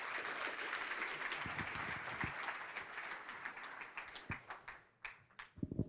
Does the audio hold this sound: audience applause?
yes